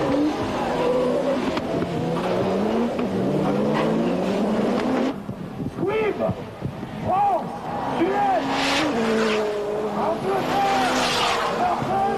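Rallycross race cars at a 1994 French championship brake hard, their engines revving, dropping and climbing again in close, loud passes, while a commentator talks over the action.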